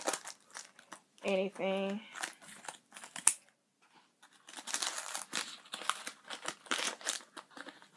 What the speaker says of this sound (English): So I'm gonna like try to like cut this open right now.